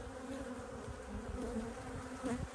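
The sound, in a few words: honey bees buzzing at an open hive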